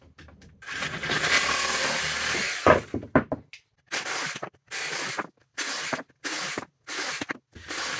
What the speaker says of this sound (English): let's cut some PVC